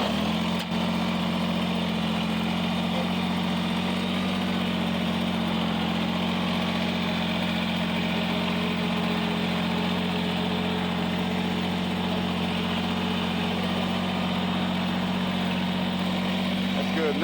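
A Kubota BX23S compact tractor engine runs steadily at a constant idle-like drone, loud and close, with no breaks for the whole stretch.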